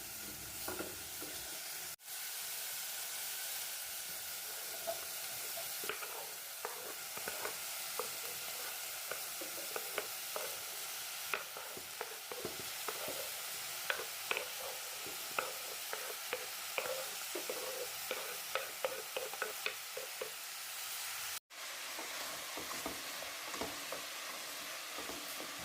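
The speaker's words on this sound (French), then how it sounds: "Donc je les laisse mijoter pendant 2 à 3 minutes en remuant" Vegetables for a Moroccan vegetable soup sizzling in a pan while being stirred: a steady crackling fry with frequent spoon scrapes and taps, at moderate distance, continuing for about 25 seconds with a short break near the end.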